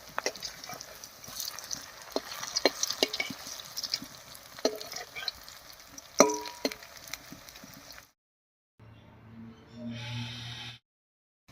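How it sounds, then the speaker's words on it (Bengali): Leaf fritters (bora) made from kanai dingi leaves frying in hot oil, a crackling sizzle with scattered pops and stirring scrapes for about eight seconds, then a brief quieter sizzle after a pause. "কানাই ডিঙ্গি পাতার বড়া ভাজলে সব পাতাগুলো না লুচির মতো ফুলে যায়"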